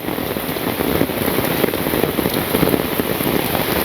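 Steady rain pours on a village in Bangladesh during the rainy season, a dense, close hiss of drops falling on surfaces without a break and with no voices.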